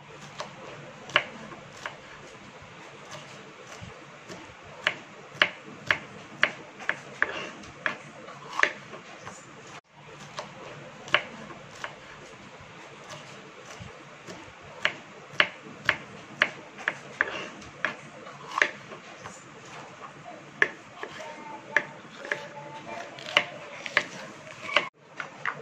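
Knife chopping bell peppers into small pieces on a cutting board, a steady run of sharp, close taps with irregular rhythm, continuing throughout without talk.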